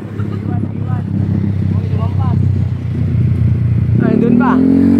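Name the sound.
Yamaha Mio motorcycle engine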